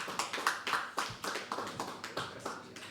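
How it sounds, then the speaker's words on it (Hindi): An open-mic poetry audience at The Habitat claps for a poet in a quick, even rhythm of sharp hand claps, moderately loud and with no voices over it. "तालियां बजते रहनी चाहिए हर्ष के लिए"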